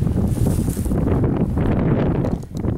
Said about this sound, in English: And it's windy out here.